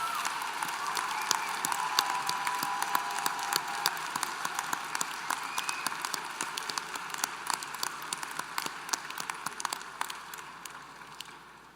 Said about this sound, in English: Let's have a round of applause for all those students hooded in the College of Education and Human Development